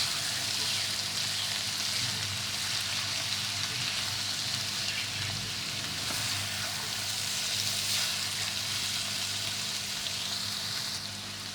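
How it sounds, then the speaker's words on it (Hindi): Khoya being stirred into grated carrot halwa in a pan, heard as a steady soft sizzle and scraping hiss throughout, close and even, with no talking. "देखिए हमने अपने खोया इसमें मिलाया, मिक्स किया।"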